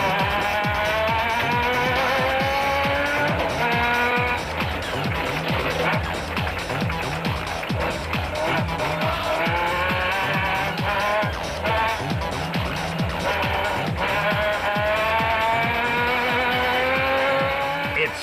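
Rally cars race through the Eastern Cape 500 in 2008, one chasing a Toyota through the dust, engines roaring loud and close with rising and falling revs and gear changes, faint tyre noise and a voice talking underneath.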